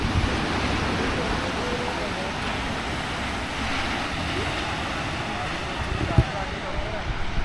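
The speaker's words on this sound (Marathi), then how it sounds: "हा गणपतीपुळ्याचा बीच आहे." Ocean waves wash steadily onto Ganpatipule beach on the Konkan coast, a continuous broad surf roar filling the air with little change in level.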